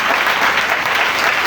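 A church congregation applauds in a dense, steady burst of clapping that fills the room, loud and close, with no clear speech over it.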